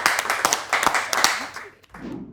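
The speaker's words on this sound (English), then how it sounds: "It's a round of applause just from me." Clapping from a single person at an informal live music interview session, a quick cluster of sharp hand claps that trails off, followed by a brief low murmur at the end.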